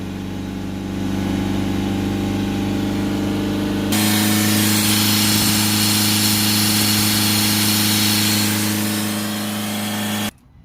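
A Mercedes C Class 2.1 CDI diesel engine, with a DPF differential pressure sensor fault, rises from a steady idle to a held rev of about 3000 RPM, a loud, continuous drone that stays constant before cutting off sharply at the end.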